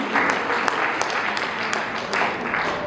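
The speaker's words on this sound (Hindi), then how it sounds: "एक बार तालियों से सूचित करें कि आपको हम सुनाई पड़ रहे हैं।" Audience clapping at a Hindi poetry recitation, a sustained patter of many hands at moderate volume with a few sharper claps standing out, continuous through the short stretch.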